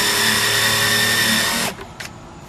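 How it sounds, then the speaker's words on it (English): A power drill whines steadily and loudly at close range as it bores countersink holes into scrap wood. It spins down abruptly near the end, followed by a couple of faint clicks and handling noise. "now that I've drilled all my countersink holes out on this piece right here"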